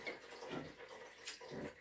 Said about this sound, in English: So, wash my hands.